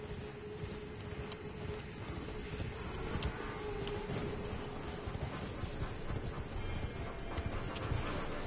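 Steady galloping hoofbeats from a horse ridden in Elden Ring, a continuous muffled thudding rhythm under game ambience, with no talk over it.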